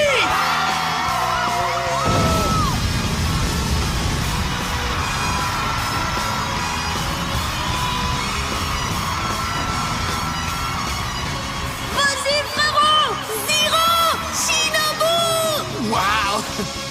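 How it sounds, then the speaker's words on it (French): A stadium crowd roars and whoops at an anime Beyblade tournament, loud and sustained, with layered shouting and yelling, voices and music joining near the end. "La foule est en délire!"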